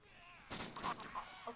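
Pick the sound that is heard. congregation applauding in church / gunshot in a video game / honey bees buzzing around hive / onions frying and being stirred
gunshot in a video game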